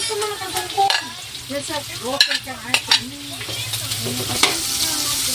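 Garlic and onion sautéing in hot oil: an uneven sizzle with sharp stirring clacks and scrapes, set against a faint tonal background sound.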